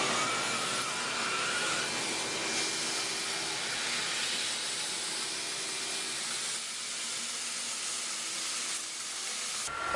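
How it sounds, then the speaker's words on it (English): A vacuum runs steadily at a pen-turning lathe in a school craft shop, giving a close, even hiss that holds the whole time with no talking. "then I'm going to turn on the vacuum"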